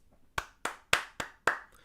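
Five sharp, evenly spaced hand claps from a single person on a live sports watch-party stream, close and crisp with short decays between each.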